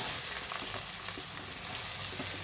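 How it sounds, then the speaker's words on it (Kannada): Chopped onion sizzles and crackles steadily in hot oil for an onion pepper egg rice dish, a continuous close frying hiss with small pops and stirring, no voices. "ಅದು ಆಯಿಲ್ ಕಾದಿದೆ. ಇವಾಗ ಆನಿಯನ್ ಹಾಕೋಣ."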